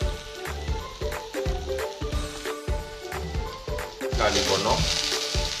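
Shallots frying in coconut oil give a steady crackling sizzle with repeated stirring clatter, growing louder toward the end, while a voice speaks briefly over it.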